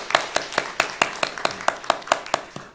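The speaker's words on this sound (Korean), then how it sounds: "우리 박수로 한번 환영할까요?" Small group of people clapping slowly in unison, about a dozen evenly spaced claps, moderately close and fairly quiet, to welcome a couple at a Sunday church worship service.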